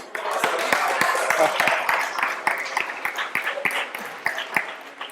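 Applause from a congregation at a religious teaching session, a crowd clapping with sharp distinct hand strikes over a continuous wash, fading slightly and turning more scattered toward the end.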